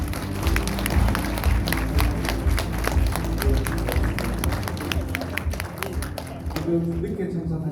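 A political gathering crowd claps for committee chair Kim Kyung-soo, with sharp handclaps over a low droning background, voices mixed in, the clapping thinning near the end.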